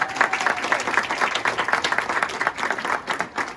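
Applause from an audience at a karate event, a steady wash of many hands clapping at moderate loudness for a few seconds, heard alone.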